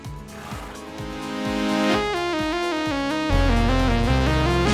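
Music disc from the Minecraft Caverns & Chasms mod, playing an electronic melody with a repeating low pulse that steps up in pitch and swells louder, ending on a fuller sustained chord. No voices are heard.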